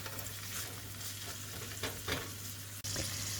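Fried rice cooking in a pan: a continuous sizzle with a steady low hum beneath, broken by a few scraping stir strokes and a brief clatter near the end.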